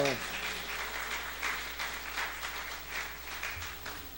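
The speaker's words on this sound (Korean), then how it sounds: "나오실 때 큰 박수와 함성으로 환영합니다." A church congregation welcomes the pastor with steady, moderate applause filling the hall, a continuous wash of many clapping hands with no clear cheering above it.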